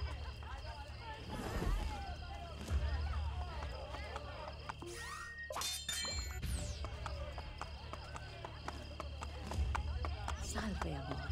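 Horse hooves in the video game Assassin's Creed Brotherhood, faint rhythmic clip-clop of a horse moving under game ambience and scattered voices, with a few louder thuds and effects partway through.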